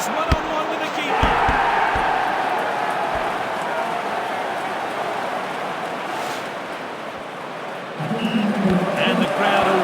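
Steady roar of a stadium crowd cheering after a goal in the football video game DLS 25, a dense continuous wash of noise with a few thuds early on and a louder swell near the end.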